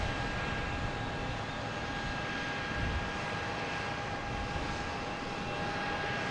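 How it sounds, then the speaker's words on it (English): A Lufthansa Airbus A340-600 arriving from Frankfurt at Boston Logan drones steadily overhead, a continuous broad jet engine roar with a faint whine, sustained throughout and moderately loud. "Coming in from Frankfurt, A340 600."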